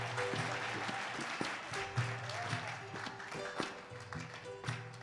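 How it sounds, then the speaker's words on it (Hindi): An audience at a devotional bhajan performance claps along under the music, a continuous wash of hand claps mixed with singing and instruments, moderately distant. "ताली बजाओ ना।"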